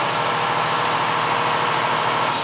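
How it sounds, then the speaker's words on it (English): A truck engine runs at high revs, a dense continuous roar that holds steady throughout. "She's revving all the way up"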